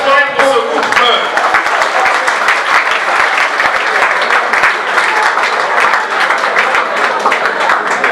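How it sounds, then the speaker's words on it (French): Guests at a civil wedding ceremony applaud the couple loudly and continuously, many hands clapping in a dense crowd sound, with a voice heard briefly at the start. "On acclame très fort pour ce couple."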